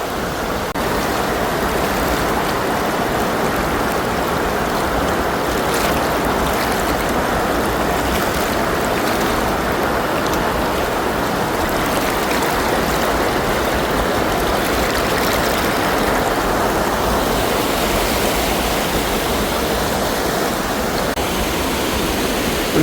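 A strong, fast-rushing mountain stream in Munnar roars continuously and loudly close by, a dense, unbroken wash of churning water with no voices.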